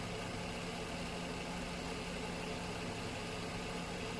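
A 2007 Nissan Teana 230 JM with a 2300cc V6 engine idling, giving a smooth, constant low hum that is faint and unchanging, with no voices over it.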